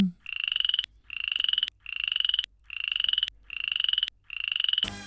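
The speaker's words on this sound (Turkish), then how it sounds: "Evet bu bir kurbağa sesiydi." A frog croaks six times in a steady rhythm, each call a loud, buzzy pulsed rattle with brief pauses between, close and clear.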